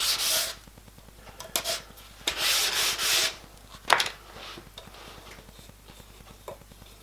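Hand sanding on a part for a 5-inch gauge model steam locomotive, Lion from the Titfield Thunderbolt, comes as several short rasping strokes of uneven length, close and fairly loud, separated by quiet gaps.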